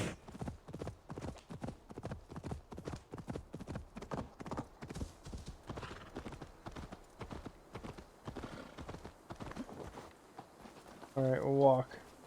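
Skeleton horse hooves in Assassin's Creed Valhalla clip-clop in a quick, steady rhythm close by, slowing toward the end before a short whinny-like burst.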